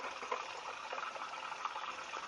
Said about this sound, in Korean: 물 나오는 소리 들리죠?